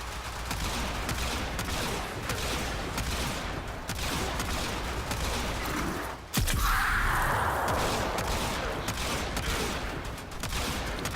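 A kitgun fires continuously in the Warframe video game, a dense stream of rapid shots with a sudden louder burst and swelling blast partway through, loud and without talk.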